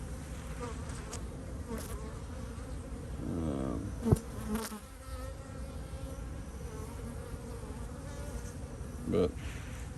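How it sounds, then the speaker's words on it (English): Honeybees drone around an open hive at an apiary, a steady close buzz with individual bees swelling louder as they fly near, continuing for ten seconds without talk. "It's not a good time to be messing with bees."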